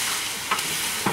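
Onion hits hot oil and fries for a coconut chicken curry, a loud, close, steady sizzle broken by two short stirring scrapes.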